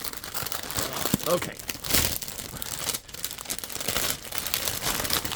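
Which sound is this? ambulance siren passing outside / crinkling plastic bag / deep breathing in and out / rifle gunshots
crinkling plastic bag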